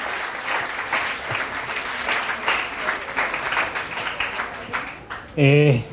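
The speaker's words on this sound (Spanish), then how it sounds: "Recibámoslo con un fuerte aplauso" Audience applause welcoming a speaker at a university research forum in Celaya, a dense, steady crowd clapping for about five seconds before a brief voice breaks in at the end.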